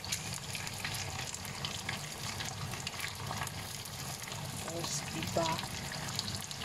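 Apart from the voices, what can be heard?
coconut cream sizzling as added to frying pork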